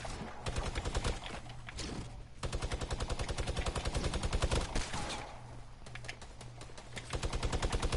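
Steady automatic gunfire from a weak weapon in the video game Fortnite, long rattling bursts with brief pauses between them, loud and close throughout.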